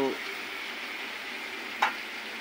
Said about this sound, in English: So now we are adding the tuna.